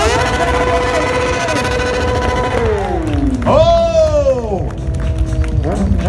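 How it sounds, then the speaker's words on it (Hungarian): Crowd cheering and applauding at a motorcycle stunt show featuring backwards riding and a burnout, a loud steady roar of voices and clapping with a revving engine whining up and down over it. "egy nagy tapsot megérdemel"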